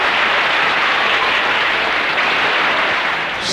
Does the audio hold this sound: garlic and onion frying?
no